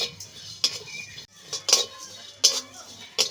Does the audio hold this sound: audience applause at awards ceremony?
no